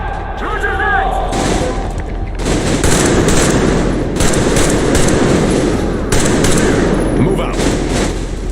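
Sustained automatic gunfire in the post-apocalyptic shooter Metro Exodus, a dense rattling fusillade of many rounds firing continuously and loudly, with a voice briefly heard at the start.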